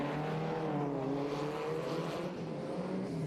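A stock 1800cc Fiat 124 Spider at a historic sprint meeting, its engine droning loud and steady with shifting revs as it pulls hard through a run, no voices.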